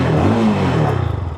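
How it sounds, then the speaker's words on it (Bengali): A GPX Demon motorcycle engine starts up loud and close, a brief rough burst that settles into a rapid, throbbing idle pulse. "বাইকটা স্টার্ট দিলে যে সাউন্ডটা প্রথম শুনতে পাবেন ঠিক এরকম হবে।"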